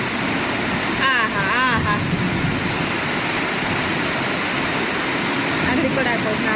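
Heavy rain pours down during a thunderstorm in Keshod with a loud, steady roar, while voices talk over it at times.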